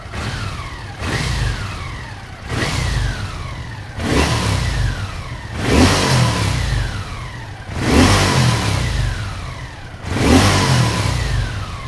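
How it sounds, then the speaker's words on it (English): A Honda CX650 motorcycle engine revs hard in repeated bursts, about six rising throttle blips in a steady rhythm, loud and close with no talking. "The engine of the CX650 is just superb. But here is a small demonstration."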